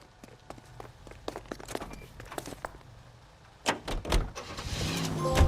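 Getting into a car in L.A. Noire: quick footsteps, then a door opening and a heavier thunk near the end as the engine rumble rises, close and moderately loud.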